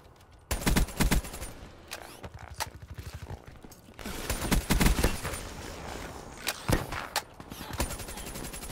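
Rapid bursts of Razorback gunfire in Call of Duty Black Ops, loud and close, firing in several clustered volleys with short gaps between, alongside faint mechanical clicks.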